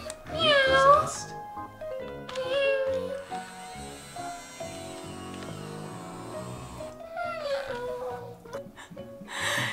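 A robotic cat doll lets out several electronic meows, with long warbling tones and some mechanical buzzing between them, while people talk around it in a home setting.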